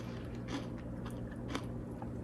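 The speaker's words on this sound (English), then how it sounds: "It really is eating like a crunchy jello." Close, quiet crunching as brittle crystal candy is chewed, a few distinct crisp bites over a low steady background hum.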